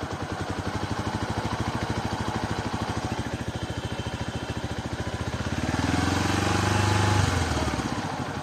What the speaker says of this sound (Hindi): थोड़ा सा रेस बढ़ाऊंगा,